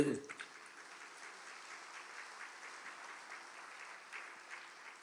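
An audience at a Catholic religious talk claps together in sustained, even applause that starts sharply and continues at a fairly soft, steady level.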